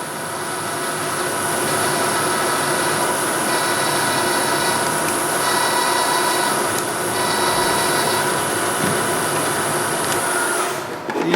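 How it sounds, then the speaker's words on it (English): 90-degree spotting drill cutting into metal on a machine tool, a continuous steady whine and hum with a faint tonal ring, holding evenly for about ten seconds before stopping, without talk. "So we're using a 90-degree spotting drill here."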